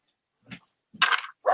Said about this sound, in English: She's madly barking but wagging her tail at the dog.